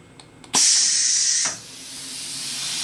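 A pneumatic air cylinder on a shop-built bar puller lets out a loud, sharp burst of air hiss as it actuates. The hiss holds steady for about a second, then cuts off into a quiet background.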